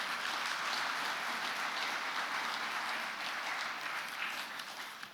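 Steady audience applause at the 60th anniversary ceremony of the Korean Commercial Arbitration Board, a dense, even clapping that fills the room continuously and fades slightly toward the end, with no talk over it.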